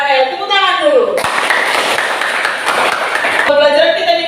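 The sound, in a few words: class clapping hands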